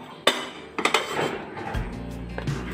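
Steel plates clatter and clink as they are handled and greased with oil while making crispy rice-flour snacks, a sharp clank near the start, a few quick knocks after, then softer scraping and a low hum, close by with no talking.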